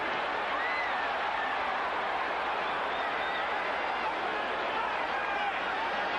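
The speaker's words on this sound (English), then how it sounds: "Listen to the crowd now, Barry." A boxing arena crowd roars during a heavyweight bout between Mike Tyson and Larry Holmes, a continuous, dense wall of noise with occasional whistles rising out of it.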